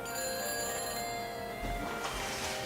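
A telephone rings after a number is dialed in the Back to the Future video game, a steady electronic ring heard alone over game background ambience.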